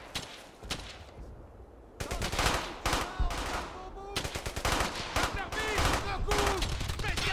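Rapid bursts of Thompson submachine gun fire in the video game Brothers in Arms: Hell's Highway, loud and repeated across the clip, with other gunfire mixed in and brief speech.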